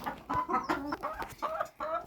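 Chickens cluck in several short bursts with brief pauses between them, close by and fairly clear.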